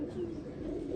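Pet pigeon cooing softly in a steady, low, continuous purr, fairly close and alone with no talk.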